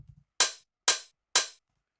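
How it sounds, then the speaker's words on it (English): Three crisp, bright tech house hi-hat hits in even rhythm, each a sharp noisy burst with a short tail, close and alone after a faint low thump at the start. "just a standard tech house hi-hat"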